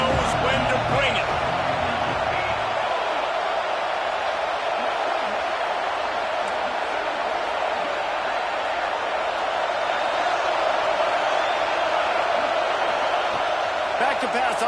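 A stadium crowd in an NCAA football video game, Alabama against Buffalo, roars as a constant broad wash of cheering throughout, with a commentator talking over it.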